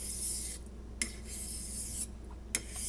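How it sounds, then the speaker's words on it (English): A Heljestrand straight razor is honed on a stone, producing soft repeated rasping strokes with brief gaps and a couple of light clicks, close and quiet with no talk. "honing on this so far is going pretty well"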